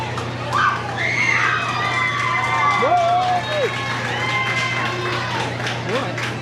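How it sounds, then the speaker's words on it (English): Children shout and cheer for fellow competitors at a county fair hog show, a busy crowd of high excited voices calling out over steady background hum, overlapping and continuous. "I'm just cheering on my fellow competitors"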